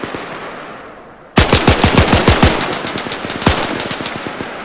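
Machine gun fire in the WWII combat game Arma 3, with a sudden loud, close burst of rapid tracer rounds, a brief pause, then another sharp shot and continued firing under a low rumble.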